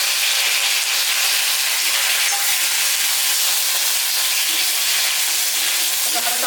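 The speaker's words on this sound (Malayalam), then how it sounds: "അപ്പോൾ കറിവേപ്പിലയും കൂടെ ചേർത്ത് കൊടുക്കാവേ." Curry leaves sizzling in hot oil in a pan for a banana flower chammanthi, a steady dense frying hiss that stays loud and even throughout with no talk.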